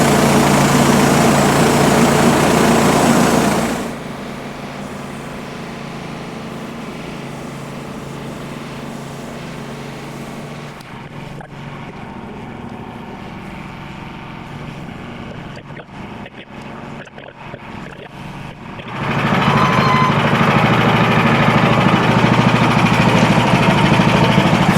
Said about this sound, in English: we'll let the mill warm up